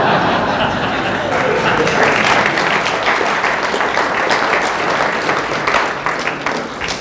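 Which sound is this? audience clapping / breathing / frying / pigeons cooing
audience clapping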